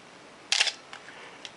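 A Canon AE-1 film camera fires its shutter at 1/500th of a second: one crisp, close mechanical click, followed by two faint small ticks in an otherwise quiet room.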